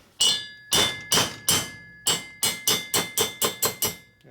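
Sharp metallic hammer blows drive a valve guide out of a Harley-Davidson Twin Cam cylinder head, about a dozen close, loud strikes, spaced at first, then coming quicker and evenly in a steady rhythm.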